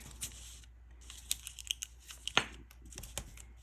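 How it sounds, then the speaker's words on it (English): Heat tape peeled off the back of a sublimated ceramic car coaster, heard as a series of quiet, sharp tearing and crinkling bursts scattered over a few seconds, with one louder rip near the middle. "We can go ahead and remove the heat tape from the back."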